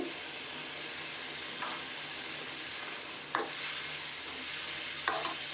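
Drumstick and tamarind-leaf curry hisses steadily in a pan, with occasional scraping stirs of a spoon breaking through the continuous close sizzle.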